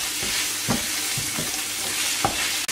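A spiced bulgur filling with chili flakes and dried mint is stirred over a steady sizzle, with soft repeated scrapes and thumps of a spoon at an uneven rhythm, close and clear, without speech.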